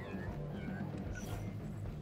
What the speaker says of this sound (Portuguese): Que pena que o seu celular toca musiquinha de gatinho quando tá sendo hackeado